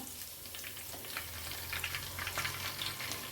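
Cumin seeds and curry leaves sizzle loudly in hot oil for a mixed vegetable dish, a close, continuous hiss studded with quick crackles and spits.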